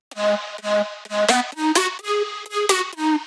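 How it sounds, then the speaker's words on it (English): A synth flute pluck from the Nexus preset PL Alpha Flute plays a melodic line of short plucked notes with breathy attacks, about eight notes in a steady rhythm, close and clear with no talking. "It's like a flute pluck sound that sounds like this."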